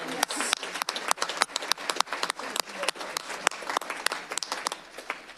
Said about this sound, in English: Let's give another big round of applause for all of our recognitions